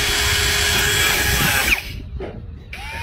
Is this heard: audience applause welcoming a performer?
no